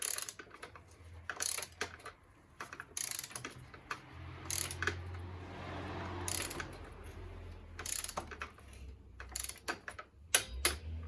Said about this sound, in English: you're going to set your torque range to 18 foot-pounds, and then you'll make sure it's at the right torque